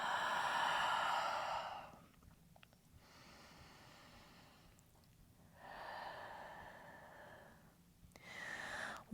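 Slow, audible exhales during a Pilates upper-body strength routine. Three long, soft, breathy outward breaths close to the microphone, separated by quieter pauses, with no talking.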